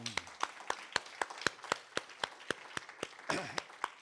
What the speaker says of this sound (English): Another round of applause for Asako Serizawa, please.